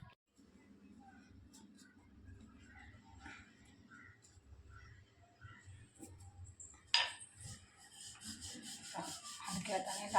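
A rolling pin presses stuffed puran poli dough in a home kitchen, giving soft low rubbing strokes at a steady rhythm, then sharper clattering and scraping sounds close by near the end.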